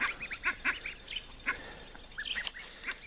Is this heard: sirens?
no